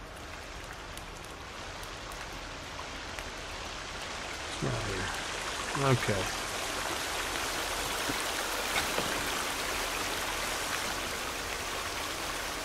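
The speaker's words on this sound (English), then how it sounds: "I hear water" Steady flowing water in the survival video game The Forest, a continuous broadband wash heard throughout at moderate level, with a short spoken exchange partway through.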